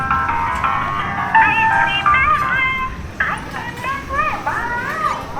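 An ice cream vendor cart passing through a Bangkok fruit market, its looping melodic jingle playing in short repeated phrases at moderate volume over busy market background noise.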